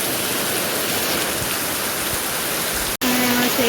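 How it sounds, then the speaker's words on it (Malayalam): Heavy rain pours steadily in a dense, loud hiss on a rainy evening, cut off for an instant near the end before resuming, with a brief tonal hum rising underneath. "കോരിച്ചൊരിയുന്ന മഴ."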